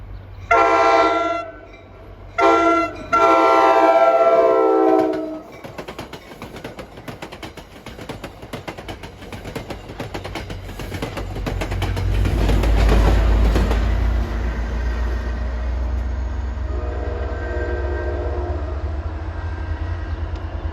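Metro North GP40 PH-2 diesel locomotive sounding two loud, long horn blasts up close, then rumbling past with a building low engine roar and steady rail clatter that continues as the train rolls by.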